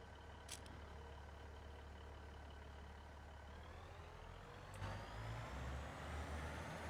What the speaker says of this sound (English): Good engine sound as well.